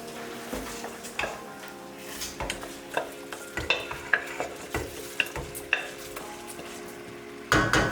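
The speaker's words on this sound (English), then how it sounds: "We have the basmati rice in. Just gonna stir it around a little bit so it gets the flavors of everything here." Basmati rice being stirred around a pan with a utensil, giving soft scraping and clinking strokes in an uneven rhythm over a faint sizzle, close and moderately quiet with no talking.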